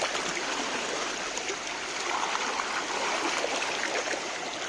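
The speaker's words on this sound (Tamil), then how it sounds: "எல்லா இடத்துலையுமே இந்த தண்ணி போகிறது பாருங்களேன்." Stream water in Kerala flows steadily in a continuous broadband rush, close and moderately loud, with no voices.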